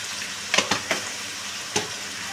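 Mutton with salt and Kashmiri red chili powder sautéing in a pan, with a steady sizzle broken by a few distinct stirring scrapes and clanks.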